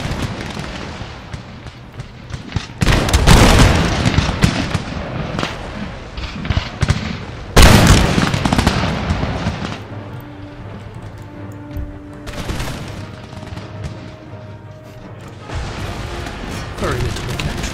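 Musket volleys and cannon fire in a battle from the video game Empire: Total War, loud crackling bursts and heavy booms that swell and fade repeatedly, with someone talking between and over them.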